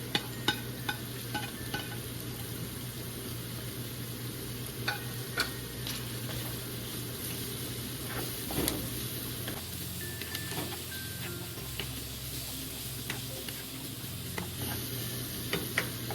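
Chicken with annatto for chicken pastil fries in a pan, sizzling and hissing steadily while a utensil stirs and taps against the pan in scattered clicks, close by, with no voices.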